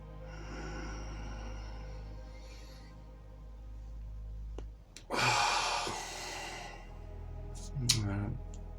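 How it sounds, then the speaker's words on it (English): Tibetan breathing exercise during meditation: long, slow breaths with a soft sigh, then a loud forceful exhale and a short gasp later, up close in a quiet room with a steady low hum. "And I use the syllables now from Tibetan breathing."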